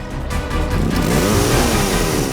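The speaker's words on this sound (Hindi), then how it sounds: "बाइक खुद बोल रही है, ये वही बाइक थी" Motorcycle engine revving, loud and close, a rough throaty drone that climbs and holds for a couple of seconds, with no voices.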